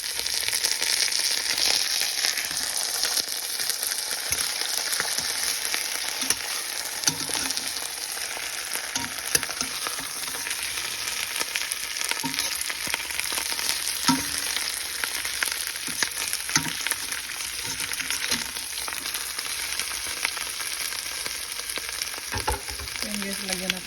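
Tilapia fries with onion, garlic and ginger in a hot pan, a loud, steady, crackling sizzle that runs unbroken for about twenty-four seconds with faint stirring and no voices.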